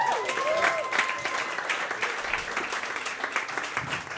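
A comedy club crowd at Comedy Works applauds a comedian taking the stage, with brisk, many-handed clapping throughout and a voice calling out over it at the start.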